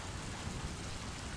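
Steady dense rain-like hiss from water leaking through a ceiling from a toilet above, continuous and even, with no voices.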